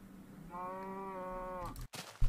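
A cow in an old version of Minecraft gives one drawn-out moo lasting about a second, clear and fairly close, followed by brief game clicks and shuffling.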